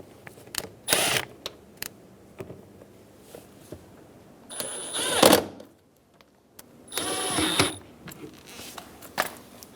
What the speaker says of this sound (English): Install the 2 bottom screws.